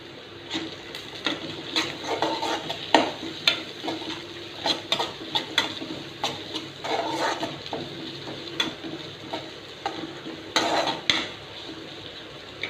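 Whole shallots and curry leaves fry in a pan with a steady, quiet sizzle, broken by repeated scrapes and knocks of a utensil stirring against the metal, with no voices.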